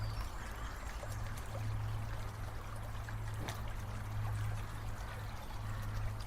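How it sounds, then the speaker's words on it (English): Filtered water from an SF Active All Terrain filter pouring into a cup, a steady, quiet trickling stream running continuously at close range. "I'll pour it right into the water cup here so you can see the quality"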